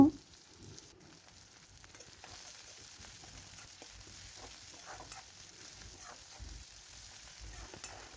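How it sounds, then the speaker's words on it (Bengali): Chopped onion and garlic frying in oil in a pan, a soft, steady sizzle with faint stirring scrapes throughout, quiet and continuous with no voices. "পেঁয়াজটা খুব ভালো করে আমি এটাকে কিন্তু ভেজে নেব"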